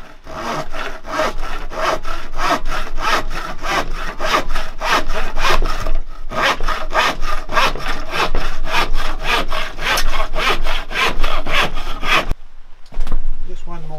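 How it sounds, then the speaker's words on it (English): A common hand saw trims the edges of a wooden icon panel in steady, rapid back-and-forth strokes, loud and close. A brief pause breaks the run midway, and the strokes stop near the end. "Now we need to trim the edges, and for this we'll just use a common or garden saw"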